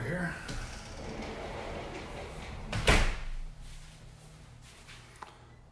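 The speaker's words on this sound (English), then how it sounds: "Shut this door here." A door is pushed shut with a single thud midway, close by, amid an indoor room with a background hum and faint movement.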